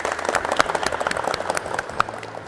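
A classroom of vocational automotive students claps together, a dense, steady patter of many hands nearby with no talk over it.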